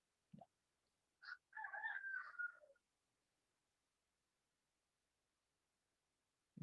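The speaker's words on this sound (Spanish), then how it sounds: "Están que comentan los gallos." A rooster crows clearly once, a drawn-out call preceded by a couple of short clucks, set against near silence with a brief knock at each end.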